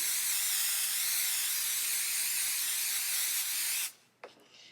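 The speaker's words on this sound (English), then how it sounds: "I'm going to spray the stabilizer." A steady, loud aerosol spray of basting adhesive onto embroidery stabilizer hisses continuously for about four seconds, then stops abruptly, followed by a brief short puff.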